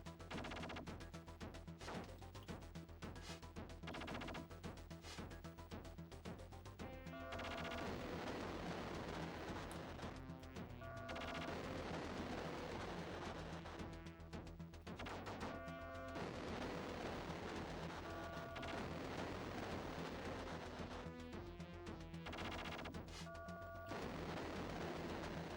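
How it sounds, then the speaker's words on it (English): Explosions and bursts of combat noise from The Adventures of Batman & Robin on the Sega Genesis, loud repeated crashing blasts layered over a steady, dense game soundtrack throughout. "I didn't actually appreciate that their explosions were hurting me"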